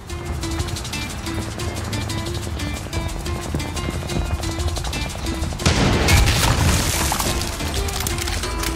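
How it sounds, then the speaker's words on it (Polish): Mortar explosions and bursts of automatic gunfire from the Far Cry 6 video game crackle in rapid volleys. A heavier blast booms loudly near the end. "Moździerz znowu, cholipa."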